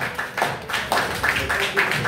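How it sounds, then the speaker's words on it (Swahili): A church congregation at Vision and Victory in Jesus Christ Church claps for visiting guests, loud rhythmic hand claps in quick regular bursts filling the room. "Tuwapigie makofi mazuri."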